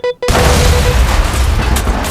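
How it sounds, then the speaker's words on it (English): A sudden, loud explosion bursts in an audio story right after a brief tone, its roaring blast filling the space and slowly decaying. "a shaking explosion threw me off my feet, knocking the wind out of me"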